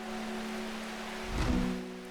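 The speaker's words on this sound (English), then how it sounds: "Does it ever stop raining in Undermere? No." Steady rain falls in the rainy town of Undermere in the video game Strange Horticulture, a constant soft hiss under a low humming music drone, with a brief swell of heavier noise midway.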